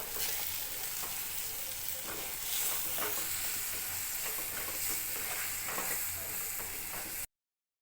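Chili and coriander powder with turmeric being stirred into a frying spice mixture for a spinach dish, a steady close sizzle with scraping spoon strokes throughout, no talk.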